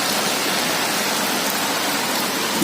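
Heavy monsoon rain pours steadily in Bhubaneswar, a loud, dense, unbroken hiss filling the whole stretch with no voices.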